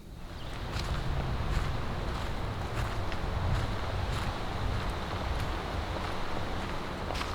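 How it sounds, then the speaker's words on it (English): Early-morning wind gusts over a blocked-off logging road, a steady broadband rush with low rumbling buffets against the microphone and no voices. "It's early and that wind is already picking up."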